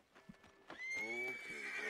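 A horse whinnies loudly in a long, wavering neigh, preceded by a few hoof clops, clear and close in Red Dead Redemption 2.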